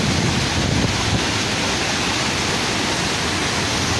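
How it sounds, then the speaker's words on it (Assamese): Panimur waterfall in Dima Hasao, Assam, rushing in a dense, loud, unbroken roar of falling water heard close up with no voices. "আৰু এই ঝৰ্ণাখনত আপোনালোকে চাউণ্ড শুনা পাইছে"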